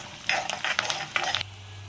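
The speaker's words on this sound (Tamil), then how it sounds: "ஓகே, வெங்காயம் நல்லா வதங்கிடுச்சு." Onions sautéing in a pan for a Tamil snake gourd kootu, with bursts of close sizzling and spatula stirring scrapes, then a quieter low hum as the stirring stops.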